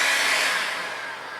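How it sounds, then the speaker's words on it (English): A heat gun blows a steady, loud rush of hot air onto stuck piston rings, a close, even hiss that fades slightly over a second and a half. "So the first thing we're going to do is take our heat gun."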